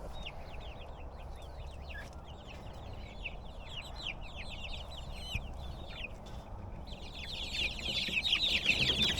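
Young chicks in a newly enlarged chicken run give repeated chirps and soft clucks throughout, growing busier and denser toward the end over a steady low background rumble.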